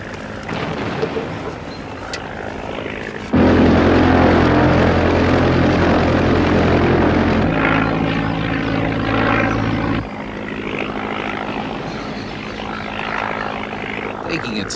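A propeller aeroplane engine roars loudly and steadily while climbing, its droning pitch shifting slightly as it works, with faint voices underneath at the start.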